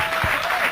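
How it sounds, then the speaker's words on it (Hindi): A studio audience applauds on a Hindi television political debate show, giving a loud, dense burst of clapping that fills the short moment without a break. "तालियों के साथ।"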